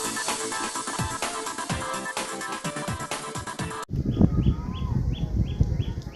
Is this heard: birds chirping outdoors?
yes